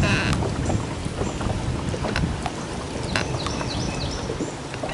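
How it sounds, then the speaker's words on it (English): A large motorboat's engine rumbles steadily nearby on a lake during crappie fishing, thick low droning with wind buffeting the microphone throughout. "here comes one of them monster boats"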